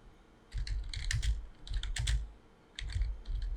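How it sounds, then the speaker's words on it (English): Bursts of rapid clicking keystrokes on a computer keyboard, close up, in three separate runs with short pauses between. "So it's so boring to be typing like this"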